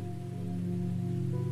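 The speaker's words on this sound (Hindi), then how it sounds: "सुबह से जोर की बारिश हो रही थी" Steady heavy rain pours down in an unbroken, dense hiss, loud and close with no other sounds standing out.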